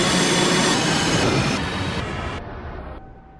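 A high-speed ICE train arriving at a station in the RO-Scale Sandbox video game, a loud, dense rolling rumble with wheel screech that slowly fades as it comes to a stop.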